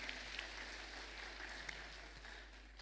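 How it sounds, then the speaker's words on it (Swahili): A church congregation at a Kikuyu redemption service applauds, a steady wash of clapping from many hands at moderate distance, continuous throughout with no talk over it. "Tupigie makofi jameni."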